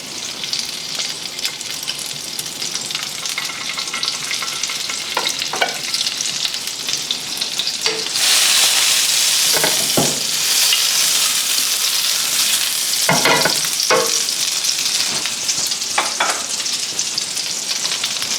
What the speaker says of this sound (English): And saute your onions.